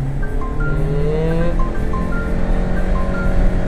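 A Mitsubishi Delica D2 hybrid engine drones steadily at full throttle, a loud continuous hum with a faint rising whine as it accelerates.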